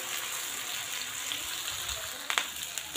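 Ginger garlic chili paste fries with onions in a pan, giving a soft, continuous sizzle and hiss close by, with a few small clatters of a utensil near the end and no speech.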